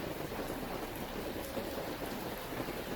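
Steady rain falls during a thunderstorm in the Saint-Henri area of Montreal, a dense continuous hiss of drops on surfaces with no voices, fairly soft and even throughout.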